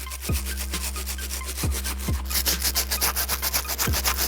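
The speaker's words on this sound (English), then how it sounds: "The Nu Antidote, water, and a NuSole Brush will be the combination to remove most of the heavy dirt." Rapid, rhythmic scrubbing of a NuSole brush working Nu Antidote cleaner and water over a sneaker's icy sole, close and steady, with bristle strokes getting faster and harsher toward the end.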